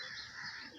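Birds chirp and twitter outdoors in a soft, continuous, fairly distant chorus with no voices.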